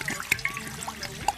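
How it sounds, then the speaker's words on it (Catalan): Mineral water poured over leeks in a cooking pot with a bay leaf, a steady close trickle and splash with small bright plinks, heard alone without talk. "els cobrirem amb aigua mineral i un pols de sal"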